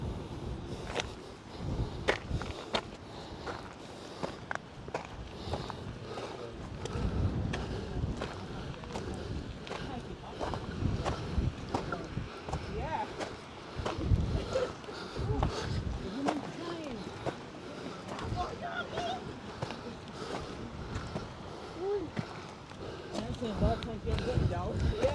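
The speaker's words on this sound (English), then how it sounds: "It's rather windy, but let me see what these microphone will do." Gusty wind buffeting a microphone on a coastal hike near the sea, with uneven rumbling bursts of noise throughout and footsteps along the way.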